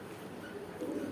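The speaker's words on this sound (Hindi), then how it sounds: "मेरे पास 7 कबूतर हैं" Pet white pigeons kept in a rooftop loft give soft, low cooing close by, a brief muffled murmur over faint background noise.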